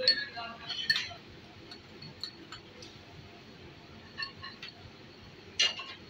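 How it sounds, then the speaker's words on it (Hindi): Soy sauce being mixed into chicken chili in a bowl, with a few light metallic clinks of a spoon against the dish, scattered and close, separated by quiet stretches. "तो ये हम इसको मिक्स कर लेते हैं।"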